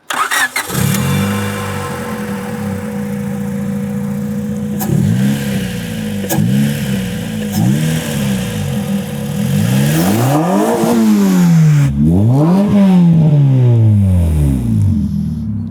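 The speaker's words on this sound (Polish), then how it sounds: "Posłuchajcie teraz, jak ten silnik brzmi od tej strony" A Honda CRX del Sol's 1.6-litre engine starts and idles, then is revved several times, its pitch swooping up and down loudly and close by.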